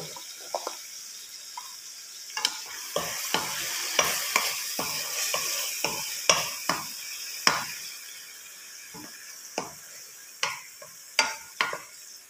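Food sizzles and is stirred in a pan while sautéing for ful medames with salt and cumin, with repeated scraping and clinking strokes over a soft frying hiss, close and fairly quiet.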